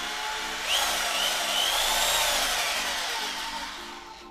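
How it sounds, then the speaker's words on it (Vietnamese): A Bosch power drill runs steadily in normal drilling mode, a continuous loud whine with a rising and falling motor pitch, heard alone with no voices. "Rồi test chức năng khoan thường nha."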